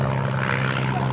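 Tiger Moth biplane at an airshow at Sywell, its engine droning steadily and loudly as it banks around in a turn, a continuous even propeller hum with no break.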